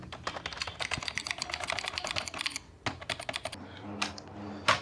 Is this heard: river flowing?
no